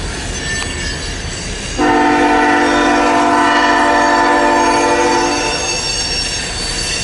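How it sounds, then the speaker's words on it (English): An ethanol freight train's horn blares loud and steady for several seconds over the rumble of rolling cars, then cuts off as the train keeps passing. "It's an ethanol train."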